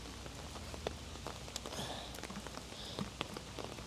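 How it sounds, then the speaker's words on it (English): Heavy rain falls steadily in New York City's Long Island City, a dense continuous patter with scattered sharper drops nearby, no voices. "It's really raining."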